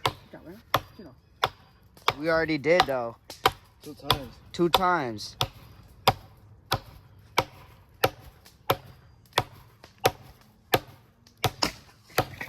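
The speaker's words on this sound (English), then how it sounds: "You're not chopping through that." Sharp, regular chopping thuds strike roughly once a second, with people talking briefly between blows.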